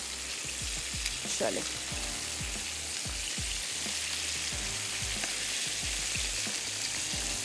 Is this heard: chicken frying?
yes